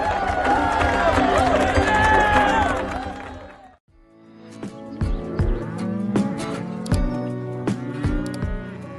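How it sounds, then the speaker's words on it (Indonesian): Cattle mooing on a farm, a long drawn-out bellow followed after a short pause by a series of shorter, overlapping moos and rustling sounds nearby. "Lihatlah sapi-sapi itu sedang bersantai menikmati sinar matahari."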